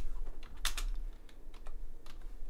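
Computer keyboard, not sitting quite flush, clatters under irregular typing: a quick burst of loud key presses followed by scattered single clicks, close and otherwise quiet.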